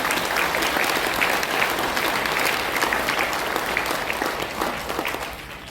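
Audience applause at a lecture event, a crowd clapping steadily and densely, loud and sustained, tapering slightly toward the end.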